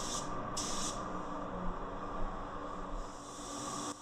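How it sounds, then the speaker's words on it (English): A Porphis PRD 815 spray gun sprays base coat in a steady, close hiss lasting several seconds, with short sharper bursts of spray at the start and near the end. "let me go ahead and just spray this one more time"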